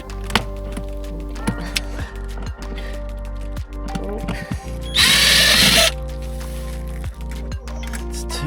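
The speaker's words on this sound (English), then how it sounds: "Might have to find a smaller drill bit." Power drill backing screws out of a cassette toilet during a retrofit, with short whirring bursts, clicks and handling knocks, then one louder, longer run of the drill in the middle; nearby and without talk.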